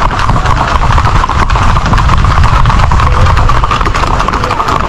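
Horse hooves clip-clopping at a Puerto Rican paso fino horse gathering, a loud, steady, continuous patter of hoofbeats close by, with crowd and engine noise mixed in underneath.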